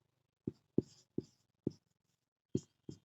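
Chalk or marker tapping and stroking on a board while a Hindi word is written, six short distinct strokes in an uneven rhythm, close and faint against a quiet room.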